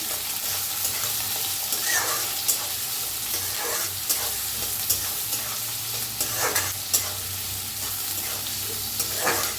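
Onion and green chillies roasting in a pan, a continuous soft sizzle under a low steady hum, with scattered scraping strokes of a spatula now and then, no talking.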